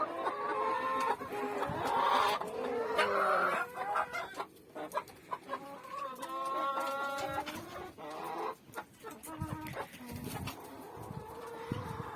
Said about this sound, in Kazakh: Тауықтар. Бұлардың да шыққысы келіп тұр.